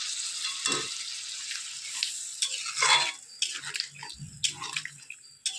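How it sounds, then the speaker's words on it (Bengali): A small splash of water added to a hot pan of cooking clams, giving bursts of hissing sizzle and bubbling with a few light clinks, close and fairly loud, with no voices. "এইবার জল অ্যাড করব।"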